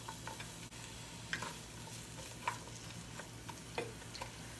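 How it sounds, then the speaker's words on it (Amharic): Sliced onion frying in oil in a pan, a faint steady sizzle with a few soft scraping stirs and clicks recurring about once a second, no voices. "ሽንኩርት አረጋለሁ"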